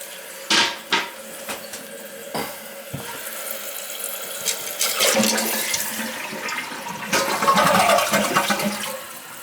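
A loose toilet being flushed after its leaking floor seal was repaired, starting with a few clunks of the handle, then a rushing swirl of water that builds and gurgles as the tank refills, close and loud without talk.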